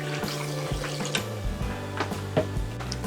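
Water splashes and gurgles into a cooking pot holding pork feet, a steady pour with irregular sloshes and a few clinks, no voices.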